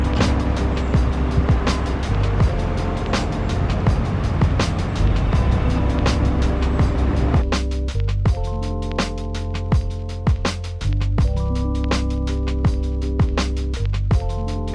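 Dense, steady urban traffic jam in central Philadelphia, a continuous loud roar of car and truck engines with passing vehicles, tonal hum shifting partway through, no talk.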